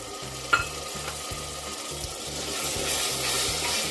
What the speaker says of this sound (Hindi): ये प्याज भून चुका हुआ है और अब मैं इसमें ऐड कर रही हूँ चॉप किए हुए टमाटर